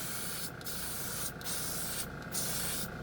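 A spray bottle mists shine product onto a car's painted surface in four short, sharp hissing bursts spaced about a second apart, close up, with no talking.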